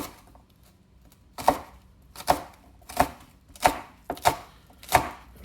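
Green onions chopped with a knife on a cutting board, six sharp evenly spaced thuds after a quiet start, close and distinct with no talk.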